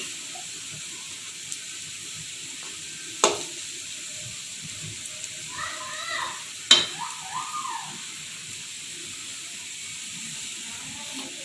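Bajji fritters fry in oil over a low gas flame with a soft, steady sizzle. A few sharp clicks and a brief muffled voice rise above it.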